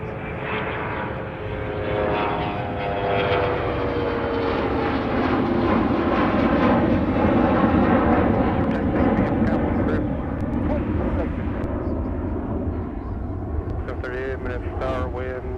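An airplane's engines roar steadily and loudly at MSP airport in Minneapolis–Saint Paul. A voice talks over the sustained noise throughout.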